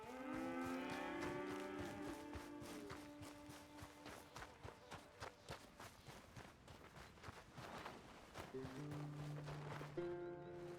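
Cattle in the video game Red Dead Redemption 2 low in drawn-out, tonal moos, one near the start and another near the end, over a bed of soft rhythmic hoof-like steps and faint game ambience.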